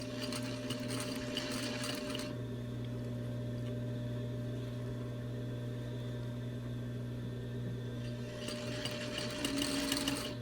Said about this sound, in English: when I get to the end of this piece, you're going to see that my machine goes backwards and then forwards